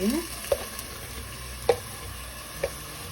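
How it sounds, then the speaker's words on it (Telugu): Onion pieces fry in hot oil in a cooker for a mutton curry, giving a faint, steady sizzle broken by three soft clicks or taps. "ఉల్లిపాయ ముక్కలు వేస్తున్నాను ఇప్పుడు ఉల్లిపాయ ముక్కలు దోరగా వేయించుకోవాలండి"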